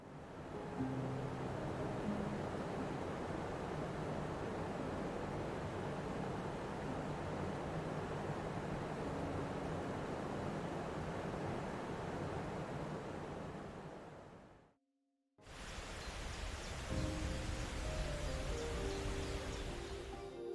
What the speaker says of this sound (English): the powerful sound of the waterfall can be heard from several miles away